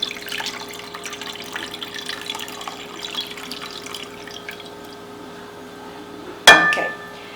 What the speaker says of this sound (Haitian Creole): je vais vider de l'eau là dans le bol